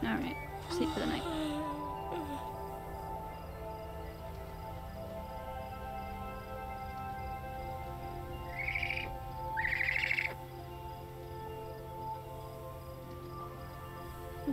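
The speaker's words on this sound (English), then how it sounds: "There's some sort of bird making a noise outside." A night-time bird call from the video game The Stillness of the Wind: two short, bright chirping bursts stand out near the middle over a steady ambient game background with a constant low hum.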